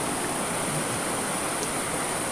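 Water rushes steadily beside a campsite by the water, a close, even wash of flowing sound that holds without pause or break.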